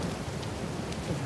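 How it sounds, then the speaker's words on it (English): Rain falls in the Uncharted 4 video game, a steady dense patter with a low rumbling undertone, close and continuous. "look at this raining effect, guys"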